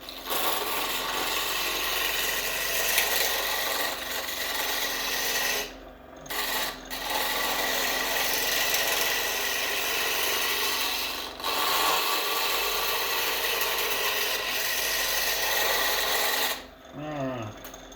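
A wooden workpiece spins on a wood lathe as a tool cuts it down toward round, giving a steady, loud scraping rasp that runs almost continuously, with a few brief pauses.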